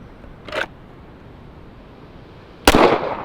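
Two sharp pistol shots at outdoor firearms training: a moderate crack near the half-second mark, then a louder, closer report near the end over a low background hum.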